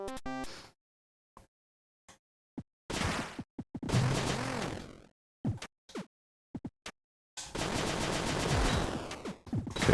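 Retro game shooting from Cave Story as enemies are hit: clipped bursts of fire and impacts separated by silent gaps, with a longer continuous volley at the end.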